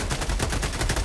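Rapid automatic gunfire in the video game Helldivers 2 during a hot landing-zone fight, dense repeated shots in quick rhythm, loud and close with no talk.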